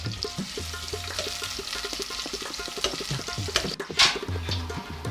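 Two small chopped onions fry in hot desi ghee for Punjabi rajma masala, giving a steady close sizzle broken by stirring scrapes and clatter, with a brief loud spike near the end.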